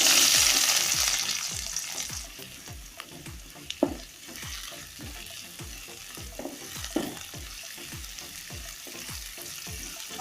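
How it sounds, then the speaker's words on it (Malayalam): Mustard seeds, garlic and chopped onion fry in a pan, a steady close sizzle broken by rapid rhythmic stirring scrapes, with a few sharper pops and no talking. "കടുകിടുന്ന 3 അല്ലി വെളുത്തുള്ളി, ചോപ്പ് ചെയ്ത് വെച്ച സവാള,"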